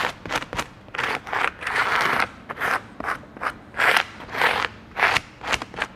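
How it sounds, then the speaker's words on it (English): A squeegee pressed hard and dragged over pressure-sensitive tape on a fiberglass duct, giving repeated close, scratchy rubbing strokes in a steady back-and-forth rhythm with no talk. "then I begin to squeegee."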